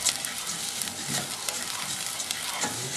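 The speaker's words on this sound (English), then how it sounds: "Let this brown rice toast." Brown rice toasts in a pan with black pepper for a wild rice pilaf, giving a steady close sizzle broken by the scrape and rustle of stirring. No one speaks.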